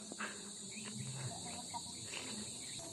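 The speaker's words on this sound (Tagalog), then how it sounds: "May kuliglig na po kasi" Crickets chirp at dusk in an outdoor garden with eggplant plants, a steady high insect trill running throughout, with faint background sounds beneath.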